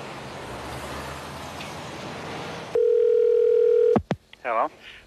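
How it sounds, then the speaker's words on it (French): A telephone call tone: a single steady tone for about a second cuts in over street traffic noise, followed by brief clicks and a short, voice-like warble. "Un coup de téléphone."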